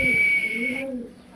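Pigeons at a pigeon farm selling breeds such as German shield, velvet shield and Iranian types give a brief, close coo with a faint higher tone before it fades quickly.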